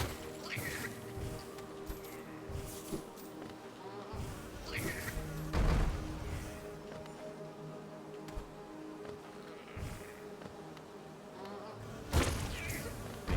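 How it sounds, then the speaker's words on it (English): Buzzing of a big bee enemy in the video game Hollow Knight, a steady insect drone running throughout with a few loud impact bursts around the middle and near the end, no talking. "there's one of the big bees right on time"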